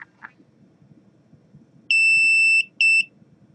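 An Arduino multi-function shield buzzer sounds a loud, steady electronic tone held for under a second, then a shorter second beep after a brief gap, over a quiet background.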